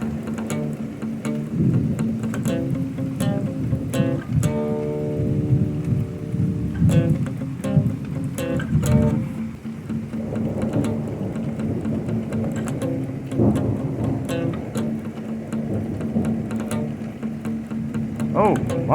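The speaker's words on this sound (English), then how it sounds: "Crazy storm." A crazy thunderstorm with intense lightning: steady pouring rain with repeated sharp cracks and rolling thunder throughout, close and loud, while a person talks and reacts at times.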